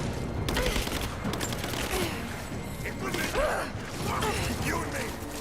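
Dense, continuous gunfire from the video game Rise of the Tomb Raider, with rapid overlapping shots and mechanical clatter running through the whole stretch, mixed with faint character voices calling out.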